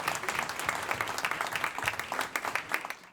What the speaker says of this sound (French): On peut l'applaudir très, très chaleureusement.